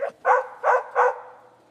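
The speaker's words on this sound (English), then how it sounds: "Some dogs barked loudly, pressing their noses against the bars." Dogs in kennels with metal bars bark loudly: three close, evenly spaced barks ring out with a slight echo and no talking.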